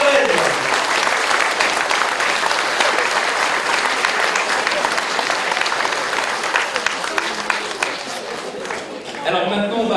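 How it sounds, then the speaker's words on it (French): A large audience at a New Year's greetings event in Vailly-sur-Aisne gives a sustained, dense round of applause for two honorees, loud and continuous, thinning briefly near the end. "Mesdames, Messieurs, des applaudissements pour Michel et Marie-Thérèse."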